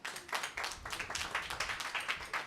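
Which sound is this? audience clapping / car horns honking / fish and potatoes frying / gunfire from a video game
audience clapping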